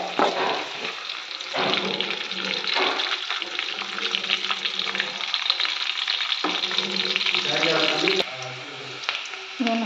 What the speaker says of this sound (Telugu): నేను హై ఫ్లేమ్లో పెట్టి ఫ్రై చేసుకుంటున్నాను